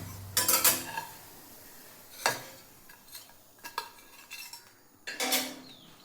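Thalipeeth lifted off a hot pan with a metal spatula, giving several short scraping clinks against the pan at spaced intervals, fairly close and moderately loud, with no talking.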